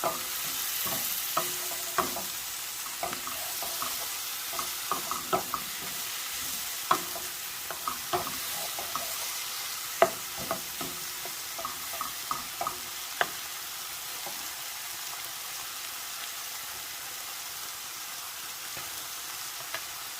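Mushrooms cook in butter in a pan, giving a steady soft sizzle with scattered clicks and scrapes of stirring, fairly quiet and close, with no talking.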